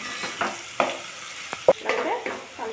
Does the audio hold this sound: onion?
yes